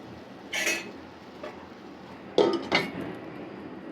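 A metal lid set onto a pot of water heating on the stove, with a few clinking metallic knocks and clatters spaced out over a quiet background, close and fairly crisp.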